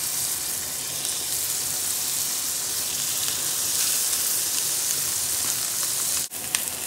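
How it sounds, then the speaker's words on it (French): Scallops searing in a very hot frying pan, a loud, dense, steady sizzle throughout, with a brief clatter near the end. "Pour les noix de Saint-Jacques, donc une poêle bien chaude. Et on dispose les noix de Saint-Jacques."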